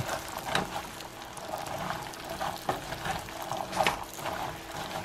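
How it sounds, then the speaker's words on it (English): Pecans stirred into melted butter in a pan, a low steady sizzle with soft scraping and shuffling from the stirring throughout. "Mix our little pecans up in the butter."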